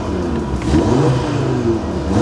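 A 2019 Audi RS3 engine fired up by keyless push-button start, settling into a steady, loud mid-pitched rumble with a slight rise in revs partway through, heard up close with no talking.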